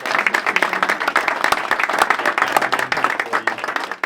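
An audience at a community presentation event in Colorado Springs gives a dense, sustained round of applause, many hands clapping close together at an even level throughout.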